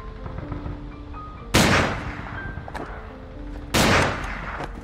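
Two sharp gunshot blasts from a film about the fall of the Nazi regime in Hitler's bunker, each a loud, broad crack with a ringing tail, spaced about two seconds apart over a low, murmuring background.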